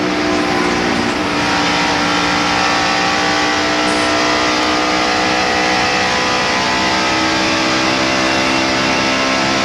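A NASCAR stock car engine roars continuously at high revs from inside the car on track during the 1992 Hooters 500, loud and dense, with the pitch shifting as it moves up through the gears.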